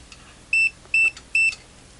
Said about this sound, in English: It appears that there's another beep at some point here.